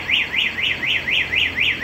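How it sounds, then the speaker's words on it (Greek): Alarm on a Piaggio Beverly 300 scooter set off by a vibration, a loud, close, rapidly repeating rising-and-falling electronic chirp that cycles about four times per second on its own. "Αυτός είναι ο κραδασμός."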